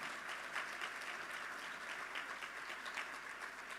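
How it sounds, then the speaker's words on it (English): An audience at a corporate thirtieth-anniversary event applauding steadily, a dense wash of clapping heard from a moderate distance, constant in level with no voices standing out. "let's applaud Hendrik for being the visionary"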